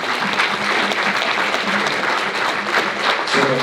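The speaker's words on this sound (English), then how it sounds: "Let's give everyone a round of applause." Steady, loud applause from an audience at a candidate forum in Murrieta, a dense wash of clapping hands that continues without a break and no talking over it.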